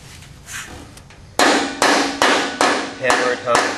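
Hammer blows folding over the edges of a boom tube on a flare tool: a run of seven sharp, loud metallic strikes at a steady, fairly quick beat, close up and with no talk.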